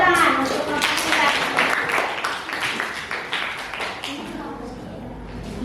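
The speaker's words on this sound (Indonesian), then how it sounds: "tepuk tangan untuk kelompok 3" Schoolchildren applaud group 3 in a ninth-grade civics classroom with a burst of close, uneven hand clapping that thins out after a few seconds. Children's voices and chatter run under and after the claps.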